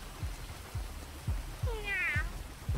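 A person imitates a cat, giving a rising meow and a warbling yowl in the middle, while low thuds repeat steadily underneath in a game setting.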